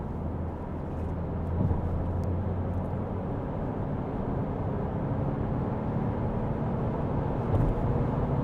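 Steady engine and road roar from an Alfa Romeo Junior Ibrida hybrid accelerating from 80 to 120 km/h on a slight uphill climbing lane, heard from inside the cabin as an even drone with some tyre and wind noise.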